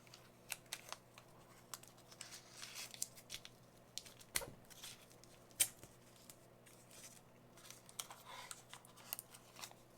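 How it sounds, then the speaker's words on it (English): Tape peeled off a part of a Millennium Falcon model kit: faint, close crinkles and short tearing pulls with small handling taps, no talk. "if I take all the tape off here"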